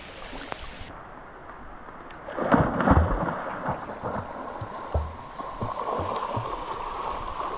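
Steady rain falls during a village outing by a river, a broad hiss that runs through the clip with a heavier, rumbling burst in the middle; no voices are heard.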